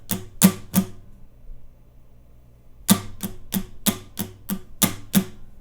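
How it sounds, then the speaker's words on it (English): A guitar plays a run of down strums in a steady pattern: a group of three crisp, close strums, a pause, then a regular series of eight, each a sharp percussive attack with no voices. "You're just going to do 8 down strums"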